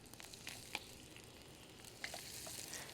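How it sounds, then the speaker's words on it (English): Marinated ghost shrimp seasoned with Old Bay, garlic powder, lemon zest and Tabasco sizzle in a pan, a faint steady fry hiss dotted with scattered crackles and pops, no talking. "if it's not sizzling, not getting that crackle pop, you know you're doing something wrong"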